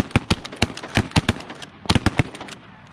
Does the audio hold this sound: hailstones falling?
no